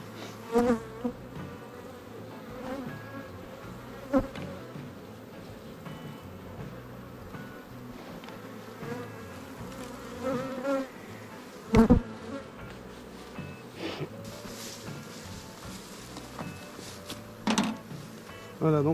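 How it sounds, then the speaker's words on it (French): Buckfast honeybees hum steadily at an open hive, a dense continuous drone with occasional louder buzzes as individual bees pass close, no talking. "je n'enfume jamais mes abeilles"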